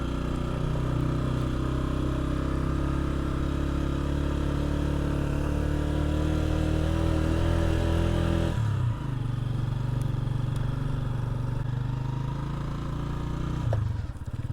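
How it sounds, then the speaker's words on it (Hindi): Motorcycle engine laboring as the bike climbs a steep hill road toward a dangerous valley pass, a steady loud drone with a drop in pitch partway through, then continuing under strain. "अभी हमने उसके ऊपर चढ़ना है, तो बाइक का भी ज़ोर लगेगा। शोर से आपको पता लग ही रहा होगा।"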